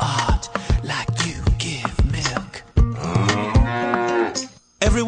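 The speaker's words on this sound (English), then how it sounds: "Excuse me while I talk to this cow that is grazing." A cartoon cow grazing in a Simpsons comedy song moos several times, with loud, drawn-out bellows close up, mixed with music and rhythmic beats.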